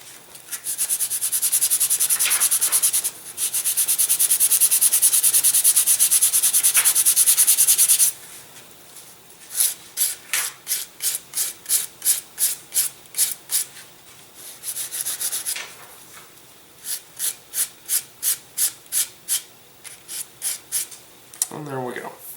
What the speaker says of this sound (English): I think I'll hit them with a little more sandpaper.